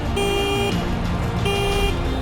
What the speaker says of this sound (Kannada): ಹಾರ್ನ್ ಸೌಂಡ್ ಈ ಥರ ಬರುತ್ತೆ